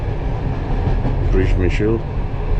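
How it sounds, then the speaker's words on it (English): A passenger train riding from Krakow toward Przemysl near the Ukrainian border gives a steady low rumble and rolling rail noise from inside the carriage, with faint muffled voices and a brief tonal whine partway through. "So I'm on the train now to Przemysl."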